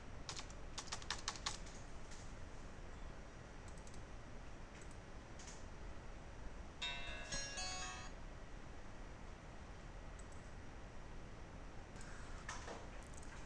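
Quiet keyboard typing on a computer while entering IP addresses in network settings, with short bursts of clicks scattered across the stretch and a faster run of keystrokes in the middle.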